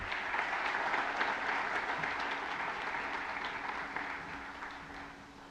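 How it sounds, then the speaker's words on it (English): Sustained audience applause for sponsors at a Boys & Girls Club charity breakfast in Tampa Bay, a dense steady wash of many hands clapping that fills the room and slowly tapers toward the end. "Please, a round of applause for these amazing sponsors."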